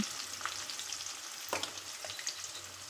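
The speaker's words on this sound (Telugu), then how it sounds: "మంచి ఆయిల్లో మంచిగా గోలిద్దామండి" Sliced onions and green chillies fry in oil for a bitter gourd tomato curry, a steady close sizzle with occasional pops and light stirring clicks, alone without talk.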